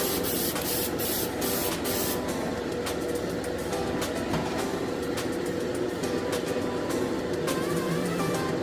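An aerosol can sprays clear coat onto a Plymouth A/FX model car body, a steady close hiss that runs unbroken throughout with small crackling pulses.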